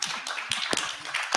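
Scattered audience clapping at a public forum, a dense crackle of hand claps running steadily through a short burst with a few sharper individual claps standing out near the end.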